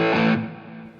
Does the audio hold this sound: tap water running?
no